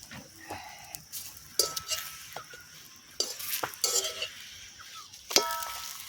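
Paratha frying in oil in a pan, with steady sizzling broken by several sharp spatula scrapes and metal clinks against the pan, close and fairly loud, no talking.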